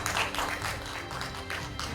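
Audience applause at a lecture on gender equality, a steady mass of clapping from a seated crowd greeting the host before her welcome remarks, fairly faint and continuous for about two seconds with no talk over it.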